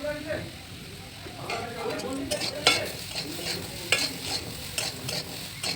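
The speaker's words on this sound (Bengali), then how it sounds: "নুন, হলুদ দিয়ে আরও ভালো করে নাড়াচাড়া করে নিলাম" Potatoes frying in a pan with salt and turmeric, stirred by hand: a continuous low sizzle broken by repeated scraping and clinking of the spoon, with a person talking over it.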